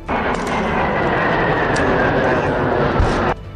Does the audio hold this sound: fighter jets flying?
yes